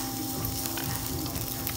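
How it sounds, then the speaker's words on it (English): Food sizzles loudly and steadily on a tabletop grill at a Melting Pot restaurant, a dense unbroken hiss with a constant low hum beneath it. "So we're able to like cook our food on the grill."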